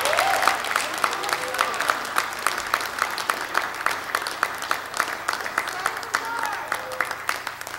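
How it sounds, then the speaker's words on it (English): Audience at a live music show applauds steadily, with dense clapping sustained throughout and crowd voices mixed into it. "All y'all have to clap louder than that if you're going to be an encore out of these guys."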